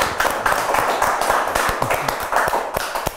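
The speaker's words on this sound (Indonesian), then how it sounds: "Kita sambut dengan tepuk tangan yang meriah." Studio audience clapping to welcome a guest onto an Indonesian talk show, a short burst of dense, lively applause with no talking over it.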